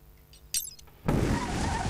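A car drifts in The Crew Wild Run racing game at night. Brief clicks and a short whoosh come first, then a loud, dense engine and tyre roar surges in and holds steady to the end.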